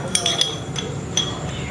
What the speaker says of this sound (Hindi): अभी मैं डालने जा रही हूँ चिया सीड